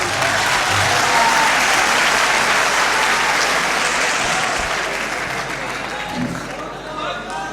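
Sustained applause from a mushaira audience, dense and steady at full volume throughout before easing slightly near the end, with scattered voices mixed in.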